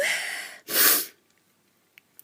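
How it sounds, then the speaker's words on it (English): A single sharp, high-pitched sneeze bursts out after a stretch of loud breathy noise, followed by near silence with a few faint clicks and small sounds. "wow, my sneezes are weird at the moment."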